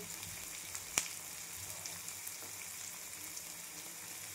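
Chopped onions sautéing in a pan with garlic-cumin paste for a besan dish with capsicum, giving a soft, steady sizzle throughout with one brief clink near the start; no voices.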